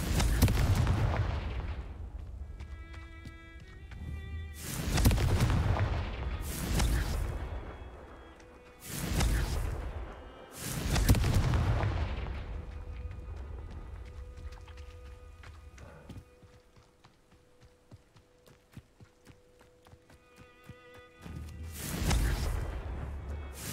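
Confringo spells in Hogwarts Legacy burst in a series of booming explosions, about six loud blasts spaced a few seconds apart, each rolling off into a ringing tail over quiet game ambience.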